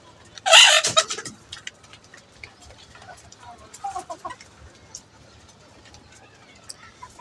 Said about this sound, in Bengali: দেখেন কিভাবে মুরগিগুলো খাচ্ছে।